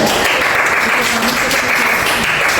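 Steady, dense applause from a group in an elementary school classroom fills the whole stretch, loud and close, with voices mixed in.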